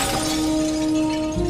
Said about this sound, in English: Crashing through the window of your study and mine.